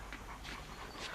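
A frightened dog whimpers and pants in short, soft breathy bursts, close by, with a low steady background hum and no talking.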